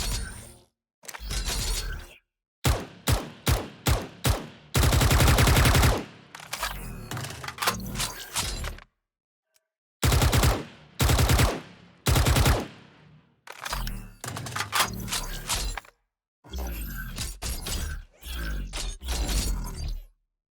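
Phantom rifle with the Protocol black and red skin firing in Valorant, loud close bursts of rapid automatic fire with short taps and long sprays separated by brief silences, alone without talk.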